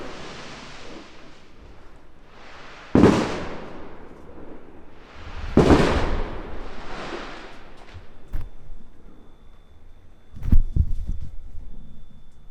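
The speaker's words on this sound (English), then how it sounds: "people going crazy with fireworks" Fireworks bursting outdoors at night, a few separate booming bangs spaced several seconds apart, each followed by a short crackling tail, heard moderately far off over a quiet background.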